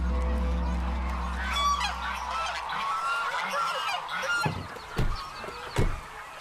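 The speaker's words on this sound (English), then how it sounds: "This is China's largest goose, the lionhead goose." Lionhead geese, China's largest goose breed with sturdy build and dark crown, honk in a farmyard; several loud nasal calls over a low rumble, with harsh honks sharpening near the end.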